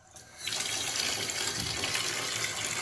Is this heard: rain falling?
no